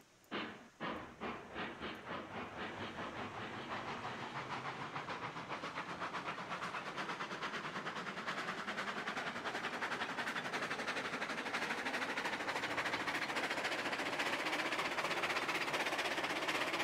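Steam locomotive in the game Railroads Online chuffs with rapid rhythmic exhaust beats that quicken and blend into a continuous hiss and rumble as it gains speed, no talking.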